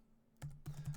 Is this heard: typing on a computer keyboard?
yes